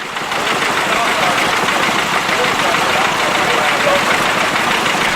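A 1961 Holder A21S articulated tractor idles at a vintage rally, its engine holding a steady, close mechanical rumble with a slight knocking texture throughout.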